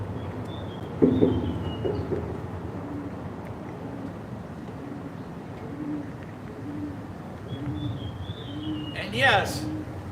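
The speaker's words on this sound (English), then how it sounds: "you do hear pigeons cooing" Pigeons coo repeatedly in soft, rhythmic low phrases beside a railway track, at a steady mid distance over a constant background hum. A couple of brief, sharper sounds break through near the start and the end.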